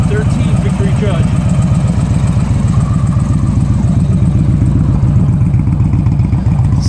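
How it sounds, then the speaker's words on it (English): A 2013 Victory Judge motorcycle idles close by, a loud, steady engine with a fast rhythmic low throb and mechanical clatter that holds through the whole stretch. "What kind of bike we got here, Will? 2013 Victory Judge"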